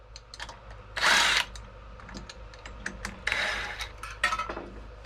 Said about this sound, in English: impact gun, so I can just impact all 4 of these bolts off.